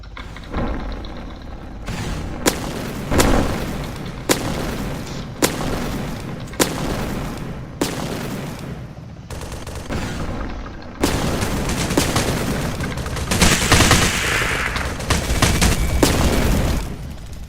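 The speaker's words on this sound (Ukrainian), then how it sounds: "Зараз ми його розбомбимо його танк." A tank gets bombed in a Roblox military game, with repeated loud booming explosions and gunfire bursts at roughly regular intervals, followed by a dense, continuous barrage of fire.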